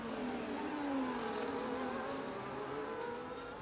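McLaren race car engine in a Brazil racing video game, a steady high-pitched whine with a gliding pitch, continuous and fairly loud throughout.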